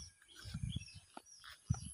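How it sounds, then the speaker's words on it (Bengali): A cuckoo calls in a village, a few short, faint calls mixed with soft low rustling outdoor noise. "ও কোকিলের ডাক শুনছো,"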